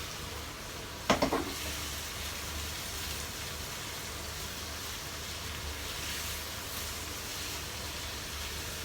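Cucumber and pork stir-frying in a wok give a steady, hissing sizzle throughout, with one brief clatter of stirring near the start; no one speaks.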